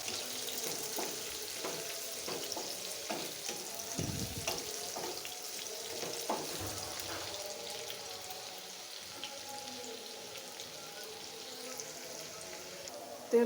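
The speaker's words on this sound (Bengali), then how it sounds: "দিয়ে দিচ্ছি পেঁয়াজ কুচি, আলু দিয়ে, কপি দিয়ে, টমেটো দিয়ে, মায়ের হাতে শুটকি।" Chopped onion, potato, cabbage, tomato and dried fish cooking in a pan of oil, a steady soft sizzle and crackle with occasional clatters and stirring scrapes close by, no talking.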